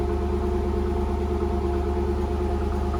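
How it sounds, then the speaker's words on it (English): A Pontiac Trans Am with a Flowmaster aftermarket exhaust idles close by, a steady, deep, throaty rumble with an even pulsing beat and no other sounds. "Definitely have a throatier idle here."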